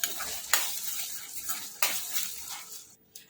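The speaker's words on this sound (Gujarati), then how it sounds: "આ રીતે બધો વ્હાઈટ સોસ એડ કરી દેવાનો છે અંદર અને મિક્સ કરી લઈશું સરસ એવું" Vegetables being stirred into white sauce for pasta in a pan, a wet scraping and sizzling swirl with two sharper spoon knocks against the pan, close and steady, then a brief pause at the end.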